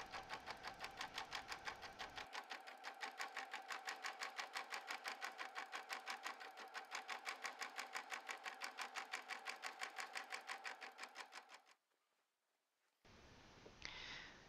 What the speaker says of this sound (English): Once the machine has finished stitching this out